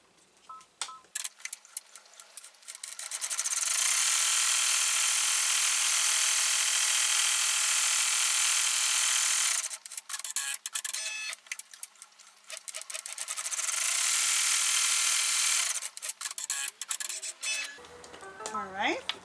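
Embroidery machine stitching a tack-down line around the window of an in-the-hoop ID holder in a 4x4 hoop, two long sustained whirring runs of rapid needle stitching with quiet pauses between and a short stop in the middle.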